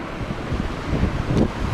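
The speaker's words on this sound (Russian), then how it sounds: "Ветер иногда такой, что вот меня чуть не сдуло меня сейчас туда." Strong winter wind at the seaside gusts steadily against the microphone with a dull, buffeting roar, and sea surf rumbles faintly beneath it.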